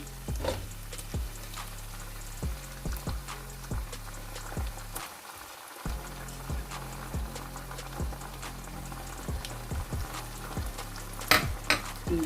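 Tomatoes, green chilies and garlic-ginger paste drop onto browned onions in a pan for chicken bhindi, sizzling steadily while a spoon scrapes and stirs in repeated sharp strokes, close and fairly loud.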